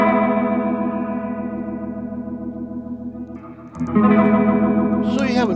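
Electric guitar chords played through a Hammond digital Leslie rotary speaker pedal set to favor the horn rotor, loud, sustained and swirling, with a brighter, fuller burst near the end; no one speaks.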